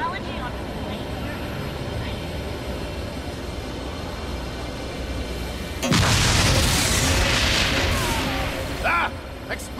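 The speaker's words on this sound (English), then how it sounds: "Ah! Explosions!" A sudden loud burst of booming explosions in the video game Agents of Mayhem hits midway, rumbling and crackling with a few sharp blasts near the end, over continuous talking and background game noise.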